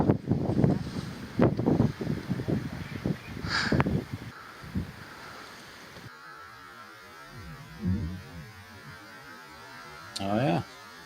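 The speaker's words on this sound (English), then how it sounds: "you can hear it's windy up there, guys, can't you?" Wind gusts buffet a microphone outdoors on a high spot, producing loud rumbling bursts in the first few seconds, then a quieter steady hiss with occasional renewed thumps.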